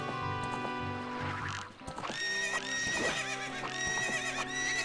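Horse neighing and clip-clopping hooves in Ocarina of Time, a loud whinny rising over steady hoofbeats and layered game music.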